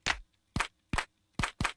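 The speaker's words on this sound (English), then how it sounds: "I think I want a clap." Five sharp, dry clap hits from a sample on an Elektron Tonverk drum machine, spaced in an uneven rhythm, each a short bright burst with a quick decay and silence in between.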